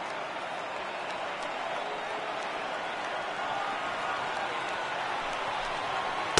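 A stadium crowd of more than 37,000 rises to its feet at a playoff baseball game in MLB The Show 18, producing a steady, dense roar of cheering that swells slightly toward the end.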